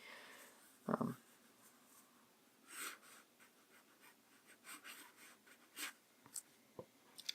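A pen writes by hand on paper in a whole-arm handwriting style, making faint scratchy strokes in short irregular bursts, with a sharper tap near the start and soft breathing close by.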